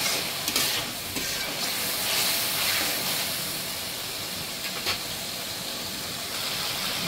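Spice paste fries in a pan, giving a steady, close, broad sizzling hiss with a few brief crackles and no talk over it.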